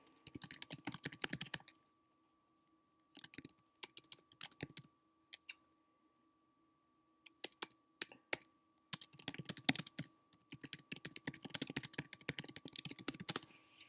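Someone types on a computer keyboard in irregular bursts of quick, crisp key clicks, pausing for a few seconds of near silence between runs, close and clear with no speech.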